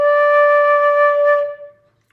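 A single sustained second-octave flute note, played without the pinky finger, rings steady and clear for about a second and a half before fading out, with no talking.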